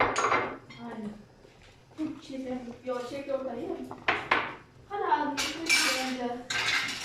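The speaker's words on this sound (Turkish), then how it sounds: "Karıştırma işte bana kaldı." Metal utensils clatter and scrape against a pot in irregular bursts, with a voice speaking in between the clinks.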